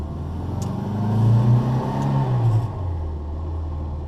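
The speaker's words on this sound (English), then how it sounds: "The Minis are such a delight to drive." Classic Morris Mini with a 998 engine driving, a low steady engine drone that swells as it pulls harder, then settles back to an even hum, heard from inside or close by with no talking.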